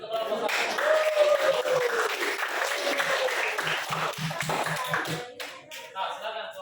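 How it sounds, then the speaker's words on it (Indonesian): A classroom claps for group 1 in a burst of dense, close applause that thins into a few separate claps as it dies away. "kita beri dulu aplaus untuk kelompok 1."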